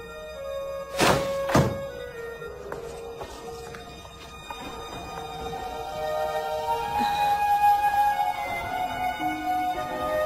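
Heavy banging on a door in a film: two loud, close thunks early on, then softer knocks and a low, steady background with faint tones.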